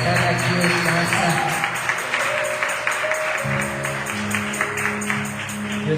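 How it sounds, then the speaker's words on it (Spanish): A church congregation gives a strong round of clapping as an offering to God, brisk and rhythmic at first, while music or a held tone joins partway through. "¿Por qué no le das una fuerte ofrenda de palmas a Dios por sus vidas"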